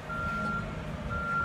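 A truck backs up at a home construction site, its reversing beeper pulsing in clear repeated tones over a steady low engine rumble, moderately close and with no one talking.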